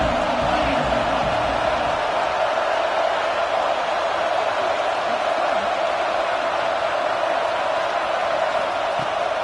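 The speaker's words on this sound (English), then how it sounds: "This crowd bringing the energy and noise early." A football stadium crowd gives a broad, steady roar that fills the whole stretch at an even, loud level, with no single voice standing out.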